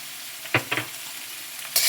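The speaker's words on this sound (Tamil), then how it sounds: "நல்லா வதக்கிடலாம் நல்லா வதங்கிருச்சு" Ginger garlic paste for veg noodles sautéed in a pan, a low sizzle broken by a few sharp stirring scrapes and clanks close by, with no talking.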